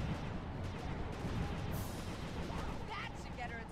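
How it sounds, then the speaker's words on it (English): Steady, dense gunfire aimed at the player in the Sly 2: Band of Thieves video game, a continuous rattle and boom of shots mixed with other game noise throughout. "Look out, we're being shot at."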